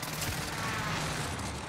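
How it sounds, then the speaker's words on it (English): An airstrike in a Call of Duty game lands as a dense, continuous roar of overlapping explosions and rapid blasts, loud and filling the whole short stretch. "But bring on the airstrike."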